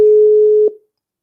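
Telephone call tone heard while trying to reach someone, a loud steady electronic tone with a couple of faint blips that cuts off abruptly, then silence.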